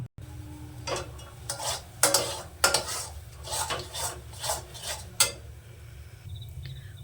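A metal spatula repeatedly scrapes and stirs a thick mashed pea paste with salt in a kadai. The strokes are rhythmic and close, with a faint sizzle and no talk.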